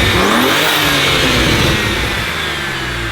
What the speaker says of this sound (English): you can hear like when you rev it kind of more higher, when it releases the boost, you can hear that more